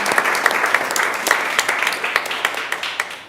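Audience clapping at a school board of education meeting honors a doubles team player, a fairly close patter with a few distinct sharp claps standing out, gradually thinning toward the end.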